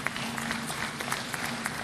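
An audience at an oil and gas industry convention claps together, a dense, even patter of many hands that stays steady throughout and sounds moderately close.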